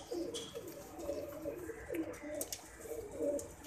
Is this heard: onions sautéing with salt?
no